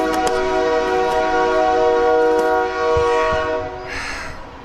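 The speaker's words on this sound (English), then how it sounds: "So the train's always going by, it's always making a lot of noise." A train horn blares loud and close in a long sustained blast, with rumbling rail noise that thins out toward the end.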